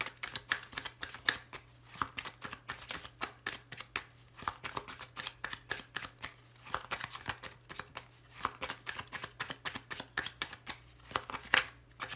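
A deck of cards being shuffled over and over, a dense run of crisp riffling bursts close to the mic with short pauses between them. No one speaks.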